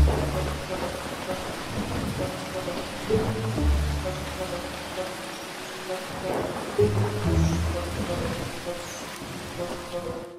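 A rainstorm sound effect in a children's story: steady rain hisses while low rumbles of thunder roll in and out, fairly loud and continuous throughout.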